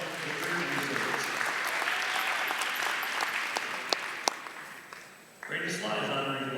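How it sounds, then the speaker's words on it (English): Applause in a gym at a girls' varsity basketball game honoring a breast cancer survivor, with a broad crowd clapping, a few sharp near claps, a brief dip, then renewed clapping with a voice over the speakers. "Let's applaud Alaya, Victor, and resilience."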